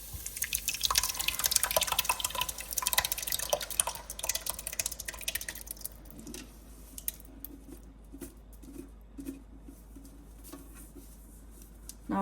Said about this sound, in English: now we're going to add our, this is 105 ounces of tomato puree